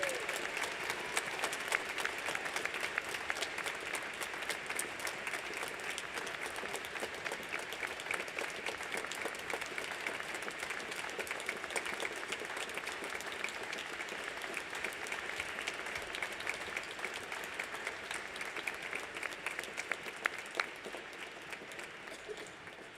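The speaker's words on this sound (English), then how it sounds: "let's have one more big round of applause for our president" Sustained, dense audience applause for the newly inaugurated president of Ramapo College, Cindy Jebb, filling a large hall steadily at an even level from start to finish.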